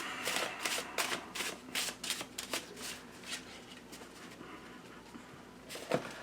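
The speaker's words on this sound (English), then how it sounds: "That's a delightful shuffle." A Perrin tarot deck printed on art paper is shuffled by hand, a quick run of crisp papery card slaps and flutters that slows and thins toward the end, with one sharp snap near the finish.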